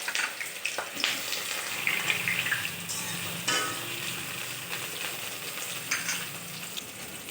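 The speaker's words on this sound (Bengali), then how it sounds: "দিয়ে দিচ্ছি কড়াইয়ে তেল। আর প্রথমে বেগুনগুলো দিয়ে ভালোভাবে ভেজে নেব।" Eggplant pieces fry in hot oil in a wok, giving a bright, continuous hiss and spatter with occasional louder bursts and light clatter throughout.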